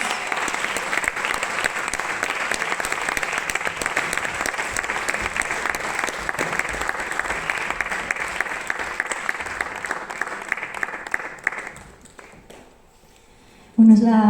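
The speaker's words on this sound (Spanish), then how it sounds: "Un aplauso para ellas." Loud, sustained applause from a live concert audience at a cultural centre in Zaragoza, filling most of the stretch before fading out near the end, followed by a brief sharp tone.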